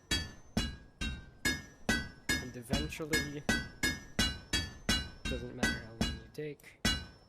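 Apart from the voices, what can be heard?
hammer striking hot metal in video game A Township Tale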